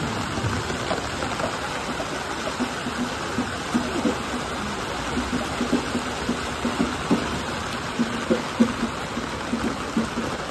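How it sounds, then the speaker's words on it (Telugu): Rain falls steadily during a Ganesh idol procession outdoors, a constant hissing wash of drops with scattered louder patters and splashes at close range, and no talking. "వినాయకుడు తీసే టైంలో వాన పడుతుంది."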